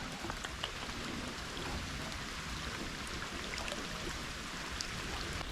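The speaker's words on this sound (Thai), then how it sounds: "ฝนลงเม็ดแล้วครับ" Rain falls outdoors at a fishing spot as a steady, even hiss of drops that covers the whole scene. It holds at a constant moderate level with faint scattered patters and no one speaking.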